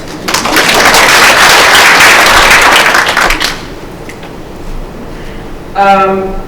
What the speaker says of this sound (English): So you can clap for yourselves.